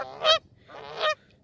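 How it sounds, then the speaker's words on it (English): Canada geese give two loud, nasal honks in quick succession, close by and clear against a quiet background. "Many people do not like the noises that Canada geese make"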